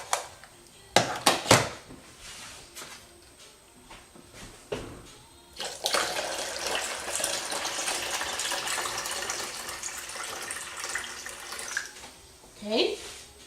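Water pours into a blender in a steady gush lasting several seconds, preceded by a few sharp clatters and knocks, with a voice speaking briefly near the end.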